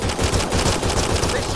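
Rapid, loud automatic gunfire from a PS4 shooting game fills the moment in an unbroken, crackling burst, with a voice faintly mixed under it.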